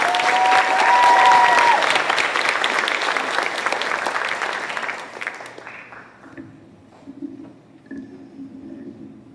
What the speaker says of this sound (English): let's give her a round of applause for the organization